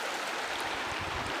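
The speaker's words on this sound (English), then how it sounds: "a beautiful creek running through it." A creek runs along a multi-use snowmobile and horse trail at Allegany State Park, giving a steady, dense rush of flowing water that stays even and close throughout.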